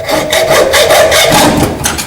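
Close, loud back-and-forth strokes of a hand saw cutting through metal pipe during a Ferguson TEA tractor overhaul, a rapid rasping rhythm of about eight strokes.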